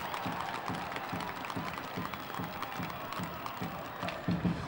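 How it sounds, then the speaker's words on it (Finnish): A big ice hockey crowd roars at Raksila arena during a Kärpät–Lukko game as the home side scores, with a steady, dense din and rhythmic pulses like chanting or clapping throughout. "huudattaa Raksilan yleisöä"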